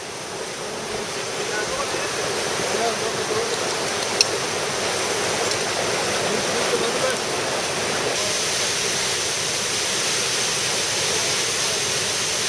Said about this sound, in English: Get a nice misting from this waterfall up on this section.